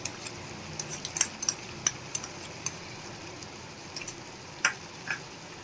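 Spoon mixing spices into paneer gravy in a pan, heard as light, scattered clinks and taps against the metal, fairly faint over a steady background hiss.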